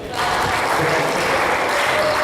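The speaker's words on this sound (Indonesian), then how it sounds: "Tepuk tangan dulu." Applause from the chamber during a parliamentary plenary session, a steady dense wash of clapping that holds at an even level for the whole stretch with no voices over it.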